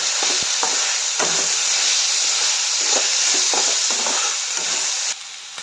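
Chicken frying with masala and green peas is stirred in a pan, a steady close hiss and sizzle broken by repeated scraping clicks of the spoon, easing off slightly near the end.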